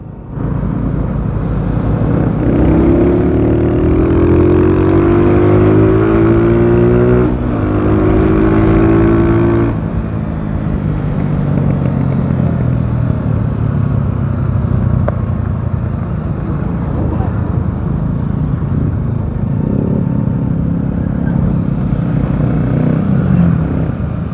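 Heavy road traffic streams past a vehicle driving on a highway in Pangasinan at homeward rush hour, a loud continuous engine and road roar with rising and falling motor tones and passing vehicles.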